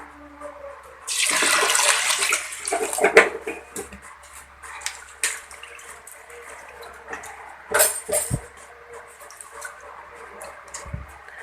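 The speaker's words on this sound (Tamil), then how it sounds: "இப்போ இதில் தண்ணி ஊற்றி ஊற வச்சிடலாம்" Water poured from a vessel onto washed ration rice in a bowl to soak, a close splashing gush lasting about two seconds followed by scattered drips, clinks and a second short pour.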